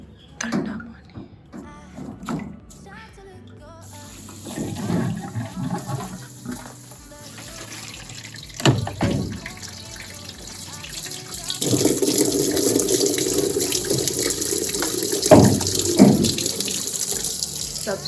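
Cold tap water gushes loudly into a sink for several seconds after scattered clatter and brief talk, the steady rush filling the latter half.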